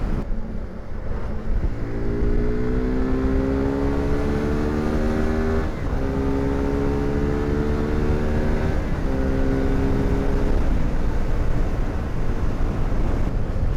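A naked sport motorcycle engine revs loud and close as the throttle is twisted, rising in pitch in repeated sweeps, dropping briefly between pulls, with no talk.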